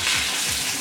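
Fish frying in hot oil for fish and chips, a steady bright hiss of bubbling oil, close and fairly loud throughout the short stretch, without talk.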